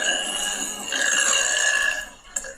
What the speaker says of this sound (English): Burp on your zesty salsa.